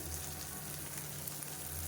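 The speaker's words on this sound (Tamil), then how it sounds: "இந்த முருங்கைக்கீரையை நல்லா வதக்கி விட்டுக்கலாம்" Finely chopped moringa leaves and grated carrot sautéing in a pan, a soft, steady sizzle and crackle of frying at close range with a faint low hum beneath and no talking.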